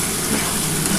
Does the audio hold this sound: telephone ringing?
no